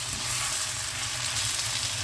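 Parwal (pointed gourd) pickle masala sizzles and fries steadily in plenty of hot oil while being stirred in the pan, a continuous close, even crackle without pauses.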